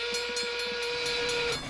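A cartoon steam train's whistle blows one long sustained tone at close range, with a soft rhythmic chuffing underneath, as the number 1 pulls into the station.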